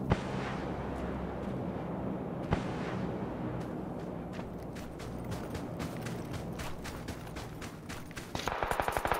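Gunfire in the battle-royale game PUBG: sharp gunshots crack out over a steady game background, then a rapid string of automatic-weapon shots bursts in near the end, with no talk over it.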